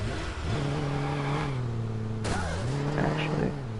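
A white car revs and drives in Watch Dogs, its engine note climbing and shifting steadily, close and loud, while someone talks over it.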